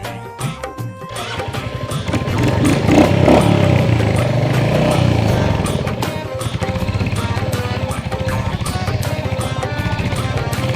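A motorcycle carrying riders on a village outing runs steadily throughout, its engine rumble loud and close with some clatter, no speech over it.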